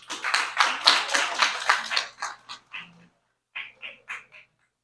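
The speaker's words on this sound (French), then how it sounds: "sous vos applaudissements, s'il vous plaît." Applause from an audience at a conference on HIV prevention and early pregnancy, a dense burst of clapping that thins out into a few scattered, isolated claps before it stops.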